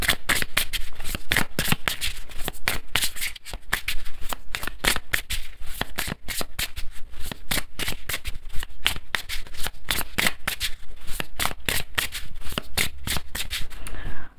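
Tarot cards being shuffled by hand for a Scorpio reading, a dense run of crisp riffling snaps close up and steady for the whole stretch, with no voices.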